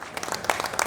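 Brief, soft clapping from government and company officials welcoming returning workers at Incheon Airport, a light patter of hands lasting under a second.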